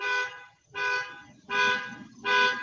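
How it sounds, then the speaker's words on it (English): Car alarm sounding from next door: four loud, rhythmic bursts of a steady electronic tone, each about half a second long, separated by short gaps and heard clearly without any talk over it. "Of course, there's a car alarm going off next door."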